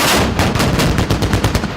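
A cannon gun salute fires as a loud, dense run of rapid, overlapping booming blasts that go on without a pause.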